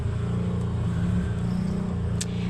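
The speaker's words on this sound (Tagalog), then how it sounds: "Ingay ng mga tricycle." Tricycle engines rumble steadily in the background on a nearby street, a constant low drone with no clear passes.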